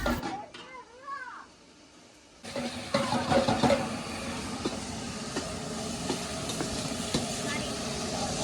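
Homemade vegetable-and-noodle stir-fry sizzling and being stirred in a pan in a farm family kitchen; a brief voice and a quiet start give way to a loud, steady sizzle with scraping of the stirring.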